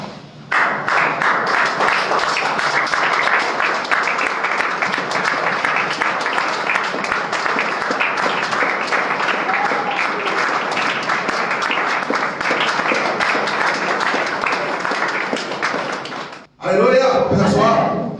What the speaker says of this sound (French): Est-ce qu'on peut se tenir debout pour acclamer notre Seigneur?